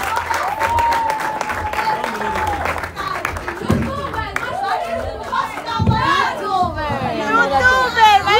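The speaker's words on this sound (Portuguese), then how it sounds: "Uma salva de palmas" An audience at a show applauds as a guest is called up, with clapping blended into lively crowd chatter and voices talking over it.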